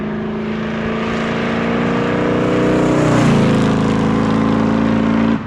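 A 1967 Pontiac Firebird restomod V8 idles with a choppy, lopey cam rhythm, its deep steady burble rising slightly in pitch midway before settling back, loud and close with no talking.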